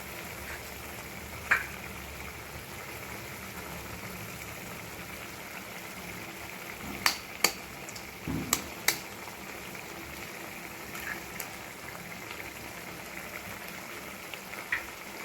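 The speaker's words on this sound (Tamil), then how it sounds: "நல்லா கொதி வந்துச்சு" Water boiling in a pot on a stove before eggs go in for egg poriyal, a steady soft bubbling hiss with a few brief clinks and knocks, heard alone with no talk.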